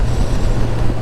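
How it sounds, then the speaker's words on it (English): A Kawasaki Ninja 1000 SX with an Akrapovic exhaust gives a loud, steady, low engine drone with induction roar for about a second, heard from on the bike. "all I'm hearing is the engine roar for the induction"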